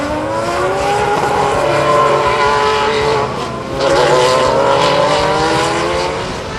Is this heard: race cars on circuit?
yes